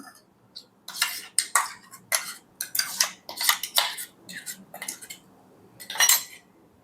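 A spoon scrapes ground paste of tomato and ginger from a grinder jar into a bowl, giving a close, irregular run of metallic clinks and scrapes in short bursts.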